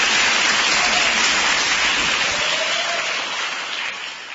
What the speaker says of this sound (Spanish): Fuerte el aplauso y muchísimas gracias.